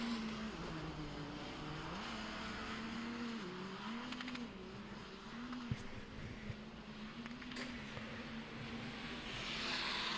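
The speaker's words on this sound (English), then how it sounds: "It looks like he has that engine running." A distant side-by-side off-road racing engine drones continuously, its pitch rising and falling as it revs over rough ground, faint under wind and background noise.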